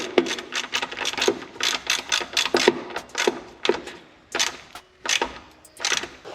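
A wrench tightening parking brake hardware on a Nissan S14, producing a series of short, sharp ratcheting clicks in an uneven rhythm, close and fairly loud, with no voices over them.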